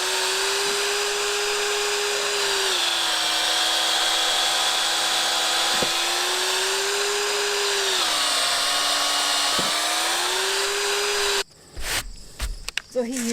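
A power drill drives long screws into a timber frame for landscape steps, a near, loud, sustained whine that sags and recovers as each screw bites, ending with clattering handling noises.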